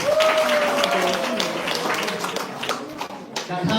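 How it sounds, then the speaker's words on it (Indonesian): A church congregation at a Christmas service applauds, a dense wash of clapping filling the room continuously with a steady level throughout, a voice briefly audible near the start. "Kasih tepuk tangan buat Tuhan"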